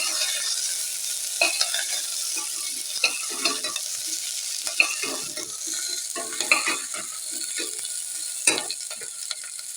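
Potatoes frying in a pan with drumsticks and jackfruit seeds for a masala: a soft, steady sizzle with frequent close stirring scrapes and clinks.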